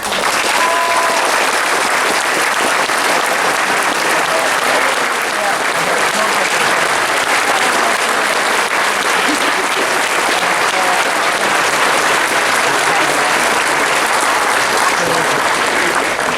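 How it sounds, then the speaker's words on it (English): Dense, sustained applause from a large convention audience at the closing ceremony of Auto Assembly 2015, a fan gathering, filling the room at a steady level with a faint murmur of voices beneath. "So just please give yourselves all a round of applause."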